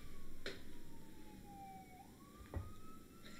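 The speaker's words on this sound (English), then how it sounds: "Can you hear the police siren?" A police siren wails with slow rising and falling tones, loud and close, broken by a couple of sharp knocks.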